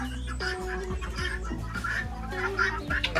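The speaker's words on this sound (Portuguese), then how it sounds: "Gente, as galinhas tá tudo animada" Farm chickens cluck and squawk excitedly at close range at feeding time on a rural Brazilian smallholding, in a busy overlapping chatter with a low steady hum underneath.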